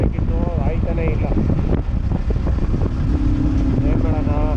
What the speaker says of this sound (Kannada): ಗಾಳಿ ಹೆವಿ ಸೌಂಡು ಗುರು